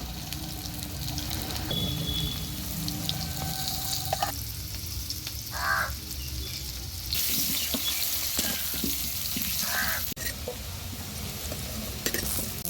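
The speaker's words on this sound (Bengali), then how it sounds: "আমাদের আলুগুলো ছাড়িয়ে ভেজে নেওয়া হলো" Steady sizzling of peeled potatoes frying in a pan, with occasional scraping and stirring sounds over the crackle, close and continuous.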